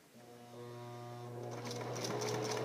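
A sewing machine stitches a straight seam in fabric, a rising mechanical hum with a steady motor whine that grows louder and rattlier as it speeds up, heard alone and close.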